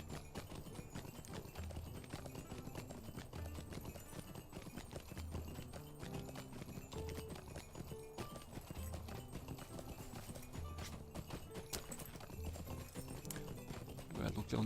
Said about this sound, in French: le poney de Mali, c'est pas un cheval de guerre